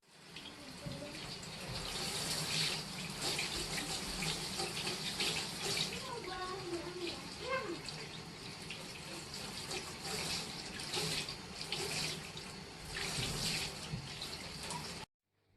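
Hot water runs steadily from a tap to rinse homemade shelters for sea-caught eels bound for a reef aquarium, a continuous splashing stream that is fairly faint, with soft speech faintly underneath.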